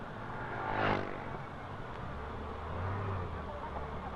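A car passes with a soft, steady engine and tyre rumble, faint and continuous, with a brief swell near the start and no talking.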